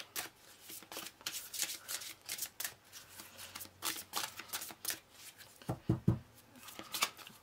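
Tarot cards shuffled by hand in a steady run of crisp riffling bursts and soft slaps, close and fairly quiet, with no talking.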